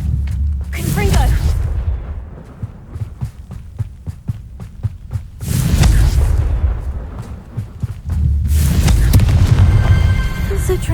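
Confringo fire-blast spells cast in the Hogwarts Legacy video game, heard as three loud, booming whooshing bursts spaced a few seconds apart over a steady low game rumble and music.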